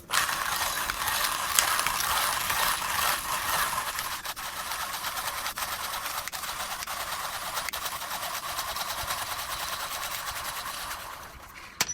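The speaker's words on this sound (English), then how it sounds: "let me just unscrew it and try to grind a shot with it. Okay, once again, 16 grams of beans." A manual coffee grinder crunches through 16 grams of beans with steady, rapid ratcheting grinding up close, continuous for about eleven seconds before stopping, no speech.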